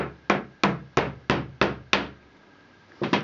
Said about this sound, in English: you hammer and they go fine inside the extra space